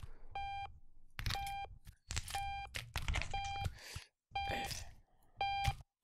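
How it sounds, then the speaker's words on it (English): Repeated electronic beeping from an alarm in the video game Octodad: Dadliest Catch, short tonal bursts spaced about a second apart, interleaved with clattering and thumping game noises. "Damn, there's an alarm going off."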